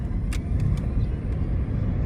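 Changan E-Star electric city car pulling away under acceleration, a steady low road and tyre rumble inside the cabin with a few faint high ticks, no talking.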